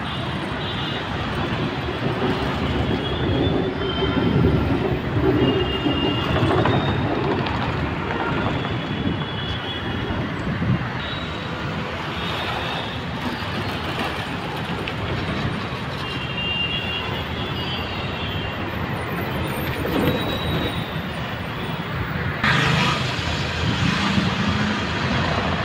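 A metro train running near LB Nagar station gives a loud, sustained broadband roar and rumble that holds steady for the whole stretch, with a brief high whine near the end.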